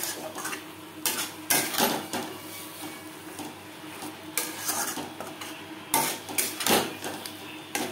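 Boiled potatoes being stirred into cooked spice paste in a pan for a Bengali bhangor fish curry, with repeated scraping clinks of a spatula against the metal pan coming in bursts, close and fairly loud, without talk.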